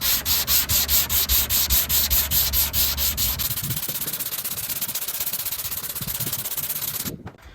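Fiberglass mirror on a Supra drift build being sanded with 80 grit sandpaper, rhythmic scraping strokes at first, then a continuous close rasping that stops near the end.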